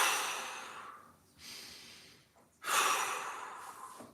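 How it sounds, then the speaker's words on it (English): Several deep breaths during a guided mobility stretch: two long, airy inhales and exhales, with a quieter breath in between, close and alone, no talking. "Couple big breaths."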